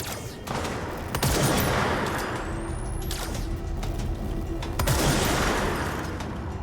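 Rapid bursts of sniper and automatic gunfire in the video game Control, loud and close, with repeated sharp volleys and a brief whistling streak over continuous noisy combat.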